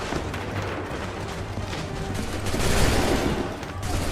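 Musket volley fire in Assassin's Creed III rolls out as a dense, continuous crackle of many shots blending into a loud, sustained roar across the whole stretch.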